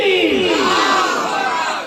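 A large crowd at a religious gathering roars a sustained chant of Allahu Akbar in answer to a Takbir call, loud and unified, swelling and then holding steady.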